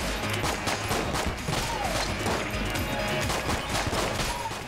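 Dense enemy gunfire in the video game Enter the Gungeon fills the clip, a loud continuous barrage of rapid shots and impacts over layered game music, with no pause throughout.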